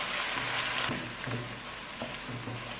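Chopped onions fry in a pan for a gobi chicken, giving off a continuous soft sizzle with faint crackles and occasional stirring scrapes close by.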